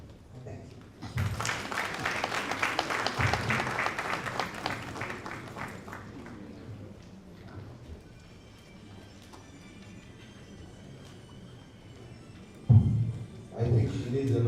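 Applause from an audience at a national budget hearing in Freetown, Sierra Leone, swells loudly for several seconds, then fades to a quiet room before a few louder bumps near the end.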